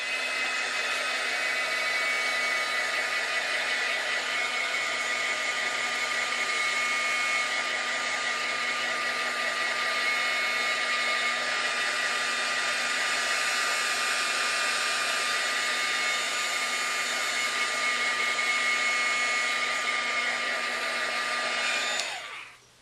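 A hair dryer blows steadily and loudly to dry wet paint on a mixed media notebook page, a continuous whirring hum lasting about twenty seconds before cutting off abruptly, with no talking.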